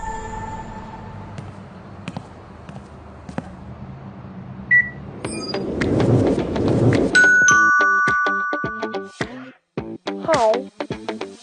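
Aqara G410 video doorbell camera hub chime, a bright two-tone electronic ding-dong with ringing tones, heard clearly over low background hum and a few sharp clicks.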